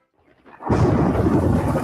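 A rolling thunderclap from a storm in a radio ad swells up out of silence into a loud, sustained rumble with a wash of rain-like noise.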